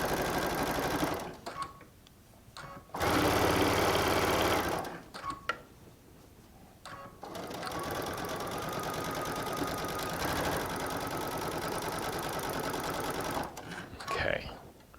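A Baby Lock Solaris sewing machine stitches a quarter inch piecing seam in steady, rapid mechanical runs, stopping and starting in several bursts with quiet pauses between them.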